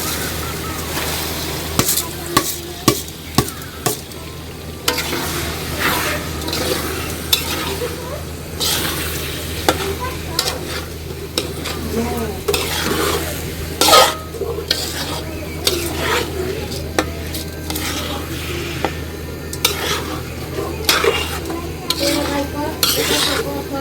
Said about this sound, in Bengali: ভালো করে মশলাটা কষছে, এখন আমরা চাইল আর ডাল দিয়ে দিতেছি